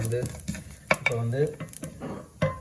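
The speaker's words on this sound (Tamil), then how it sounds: "ஒரு கரண்டி சீரகம் போட்டுட்டு லேசாக அதை கிளறி விடுவோம்." A spoon stirs cumin seeds frying in hot oil in a pan, with scraping strokes and light sizzling, close and fairly quiet, under a voice talking.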